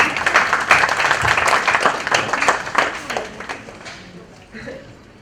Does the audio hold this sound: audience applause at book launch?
yes